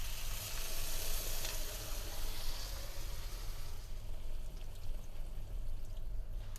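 Water poured into a pan of frying potatoes and peas for an Indian-style aloo matar, giving a steady, close hiss and sizzle with a pouring rush that eases off partway through, no voices.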